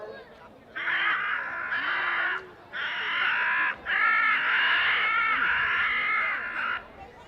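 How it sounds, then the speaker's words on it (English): Carrion crow calls played back from a bird-scaring recording at Manchester Airport: a series of harsh, loud caws in long repeated bursts with brief gaps, heard close and dominating the clip. "next is a carrion crow."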